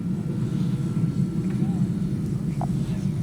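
A radio-controlled P-38 model airplane with retracts and flaps deployed comes in to land, its engine drone steady and moderately loud, with a voice calling out over it.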